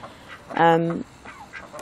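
Backyard ducks, including a drake, give one loud nasal quack close by, followed by fainter calls and soft background voices.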